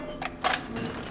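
A gun being reloaded in the Cryostasis video game, heard as a few short mechanical clicks and clacks in quick succession, close and fairly crisp, with no talking.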